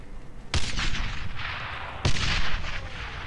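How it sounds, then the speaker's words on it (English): Two heavy artillery blasts hit in Brothers in Arms: Road to Hill 30, a World War II game, about a second and a half apart. Each is a sharp, loud boom that rolls into a long crackling rumble. "You don't really move out during artillery fire."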